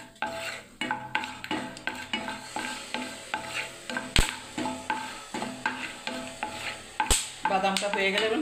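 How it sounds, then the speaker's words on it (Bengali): Peanuts frying in hot oil in a pan, with a steady background sizzle under repeated rhythmic stirring and scraping strokes of a utensil against the metal, close and fairly loud, with no talking. "এই তেলের মধ্যে আমি বাদাম দিয়ে দিলাম। একটু বাদামটাকেও ভেজে নিচ্ছি।"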